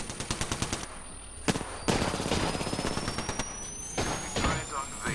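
Rapid automatic fire from a turret in an Apex Legends match, a steady rattling stream of shots with a few sharper impacts, under a voice.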